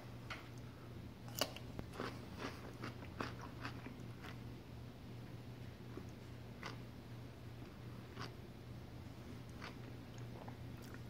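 Bites and chewing into a fruit punch flavored pickle, a few crisp crunches scattered over several seconds, close and fairly quiet over a steady low background hum.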